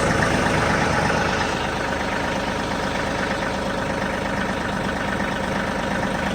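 A John Deere 3038E compact tractor's diesel engine idles steadily close by, a loud, even rumbling chug that holds constant throughout.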